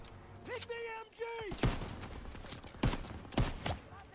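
Gunfire on the D-Day beach in Call of Duty: WWII, with several loud close sharp bursts and single shots amid battle noise, while a voice shouts briefly at the start.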